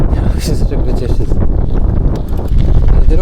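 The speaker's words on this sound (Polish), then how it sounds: "tutaj też zawiewa, a będę jechał właśnie w kierunku, z którego wieje ten wiatr" Strong gusty wind roars steadily across the microphone while riding a bicycle on a rough gravel road between Lipinki and Strącz, a loud continuous rumble with faint crunching underneath.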